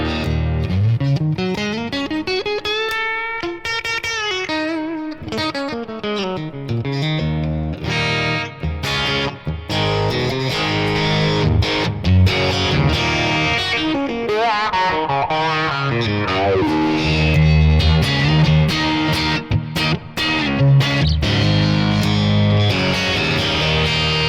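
A Fender J. Mascis signature Telecaster played through an AC30-style amp in top boost mode gives bright, driven chords and sliding melodic phrases, loud and continuous without a break.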